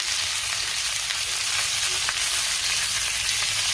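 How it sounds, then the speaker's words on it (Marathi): Tomato, cumin, ginger and garlic frying in a pan for chole masala make a loud, continuous close-up sizzle with soft stirring scrapes throughout and no voices. "जिरे घालूया आणि हे पुन्हा व्यवस्थित मी परतून घेणार आहे"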